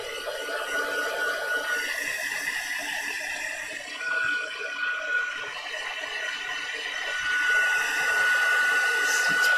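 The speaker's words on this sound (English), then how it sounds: "I'm just going to run my heat gun over that." A heat gun whirs steadily while drying paint on copper stain paper for an altered Christmas Little Golden Book, a continuous close-up blowing hiss and hum that swells slightly near the end.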